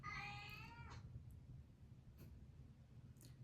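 A cat lets out one drawn-out, insistent meow at the start, followed by quiet with a few faint taps.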